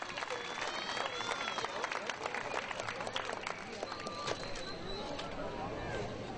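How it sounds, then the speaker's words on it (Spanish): Festival reception crowd at Villa Alta applauding warmly, a dense steady patter of many hands kept fairly faint and distant, with scattered voices and whistles mixed in throughout. "para que les pida un caluroso y fuerte aplauso"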